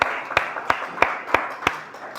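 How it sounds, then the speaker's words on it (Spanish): Church congregation applauding together, a loud rhythmic clap landing roughly every third of a second in unison over a bed of scattered hand claps. "le da un aplauso al Señor"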